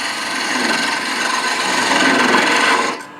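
Wood lathe cutting beads on a one-piece wooden baby rattle blank, a steady close rasping scrape that runs continuously for about three seconds before cutting off abruptly, no talk.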